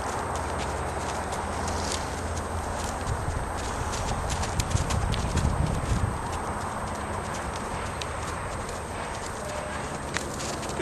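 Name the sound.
horse hooves clip-clopping during a ride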